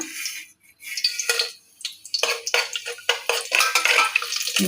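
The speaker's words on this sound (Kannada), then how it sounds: "ಈರುಳ್ಳಿ ಹಾಕ್ಕೊತಾ ಇದ್ದೀನಿ" Onions go into hot oil and ghee in a pan for Ambur-style chicken biryani, with close bursts of crackling sizzle and spoon-on-pan clatter in uneven surges that grow denser toward the end.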